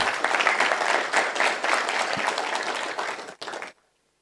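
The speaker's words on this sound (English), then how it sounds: "Another round of applause." Audience applause at an internet summit and awards event, a full, steady roll of many hands clapping that holds for several seconds, briefly dips, then stops abruptly into silence.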